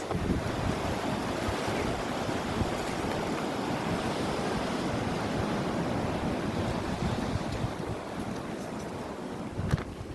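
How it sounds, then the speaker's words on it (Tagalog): Strong gusting wind roars against the microphone over the steady wash of surf at Shek O beach, Hong Kong, a constant loud rumble with no break. "lakas ng hangin, ang lakas ng agos."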